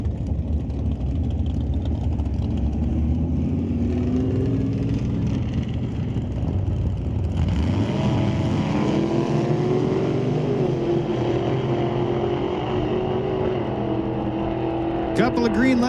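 Old-time drag racing cars, including a Nova, roar at the strip in Langley during Friday qualifying, loud engine drone rising as they launch and pull away, with an announcer talking over it.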